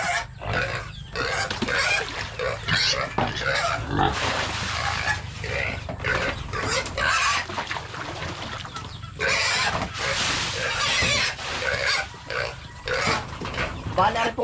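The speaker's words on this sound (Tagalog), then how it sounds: "Papakain na po muna tayo ng baboy bago magpunla." Pigs on a small Filipino farm grunt and oink at feeding time, a steady, fairly loud chorus of snorts and squeals with other farm animal noises mixed in.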